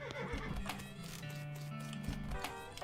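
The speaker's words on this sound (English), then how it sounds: "maybe I need to get on the horse" A horse in the video game West of Loathing whinnies and clip-clops, with sharp hoof strikes and neighing over a constant tonal musical hum, fairly close and moderately loud.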